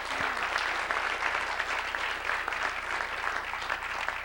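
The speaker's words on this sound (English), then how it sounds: "let's give them a round of applause" Sustained audience applause for panelists at a public school reform discussion, a dense, even wash of many hands clapping, steady and moderately loud with no talk.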